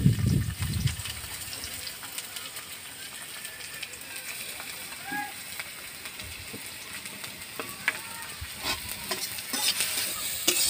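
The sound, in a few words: chopped onion frying in oil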